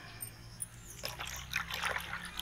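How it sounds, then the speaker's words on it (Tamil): A thin trickle of ice water pouring into a milkshake, faint at first, then growing into a brighter, splashier stream. "ஆயா கொஞ்சம் தண்ணி கலக்குறாங்க"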